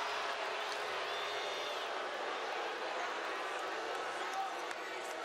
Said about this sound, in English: The crowd is booing because the whistle came late